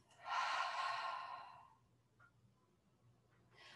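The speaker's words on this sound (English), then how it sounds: "Exhale out the mouth." A single long, breathy exhale out the mouth during a gentle yoga breathing exercise, close and soft, fading over about a second and a half before a quieter breath follows.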